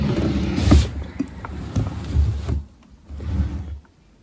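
A dressing table drawer slides open with creaking, scraping mechanical sounds and a few knocks, fairly close, with items rattling inside.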